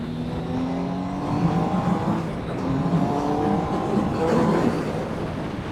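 A Triumph Speed Triple 1050 motorcycle accelerates on a rough road, its engine note climbing in smooth steps as the throttle is rolled on, loud and close.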